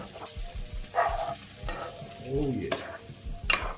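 Bacon and green onions frying in a pan for quiche are stirred, with crackling sizzle and several scraping utensil strokes at close range, plus a brief spoken remark.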